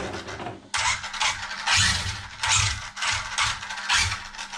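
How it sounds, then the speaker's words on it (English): A Traxxas Drag Slash RC car is rocked back and forth on a table, making a run of loud, rhythmic mechanical clicks and ratcheting whirs from the drivetrain in repeated bursts, with no talking. "What I normally do is rock it back and forth on the table."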